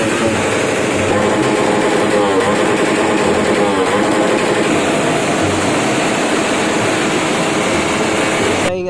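A loud motorcycle exhaust pipe revs and roars at a motorshow event, a harsh continuous blare close by that stays intense throughout with shifting engine pitch.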